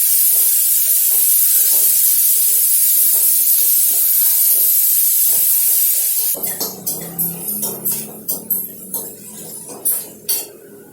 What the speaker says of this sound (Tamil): ஒரு 2 தக்காளி நறுக்கி வச்சு அதையும் நல்லா போட்டு அதுக்கு தேவையான உப்பும் போட்டு நல்லா வதக்கி வைக்கணும்